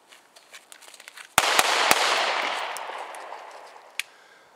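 An HK USP9c compact 9mm pistol fires at 3 yards, three sharp, loud shots in quick succession with a long reverberant tail, then one more shot after a pause, with faint handling clicks beforehand.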